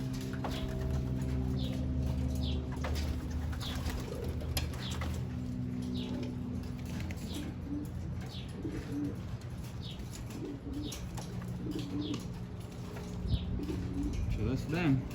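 Racing pigeons out of the loft for the first time coo softly and steadily amid flutters and light shuffling, with occasional wingbeats, while a person talks faintly in the background.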